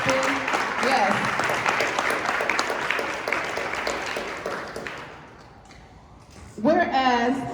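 One audience member claps at a council meeting, producing a steady run of close, brisk clapping that fades out, followed by a short burst of speech.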